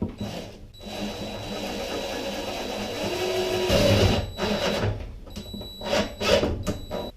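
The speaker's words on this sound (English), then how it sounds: "these are self-tapping screws, so once they get seated, I quit drilling" A drill drives self-tapping screws into a sliding glass shower door, giving a steady whirring motor hum for several seconds that ends in a few short, choppy bursts as the screws seat.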